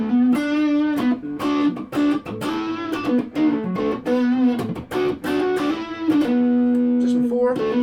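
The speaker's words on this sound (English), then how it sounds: "So neck pickup, using the wee Laney DC15, no pedals or anything like that." A zebrawood Stratocaster on its neck pickup runs straight into a small Laney DC15 amp's distortion channel with no pedals, playing crunchy, sustained chords and short riffs with brief gaps and a loud, full tone.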